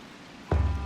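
Rain falls in the video game Wild Hearts as a steady soft hiss, joined halfway through by a louder, low rumbling wash.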